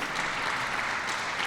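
An audience at a smart lighting ribbon cutting in Chicago claps in a dense, even burst of applause.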